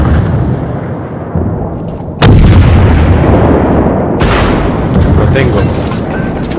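Warship guns fire in the naval video game World of Warships Blitz: a sudden loud boom breaks in midway, then a second heavy blast follows under a rumbling background while someone speaks briefly.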